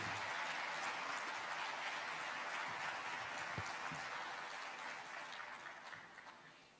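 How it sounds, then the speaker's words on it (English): Audience at the Asian Development Bank's 57th annual meeting in Tbilisi applauding a speaker, with a broad, steady wash of clapping that fades gradually at the end. "Please welcome him with a warm round of applause."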